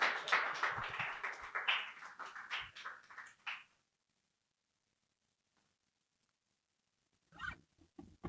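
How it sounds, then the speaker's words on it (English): An audience applauds St. Lundi at a live lounge show in New York, a brief burst of scattered hand claps that fades into near silence before a few claps return. "Round of applause, guys."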